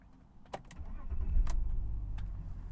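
BMW E46 coupe engine starting up, a short crank followed by a low, steady idle rumble, with a few sharp clicks and door or key noises near the start.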